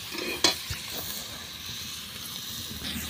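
Chickpea dal and potatoes fry and get stirred in a pan, a steady close sizzle broken by scraping stir strokes and one sharp clink.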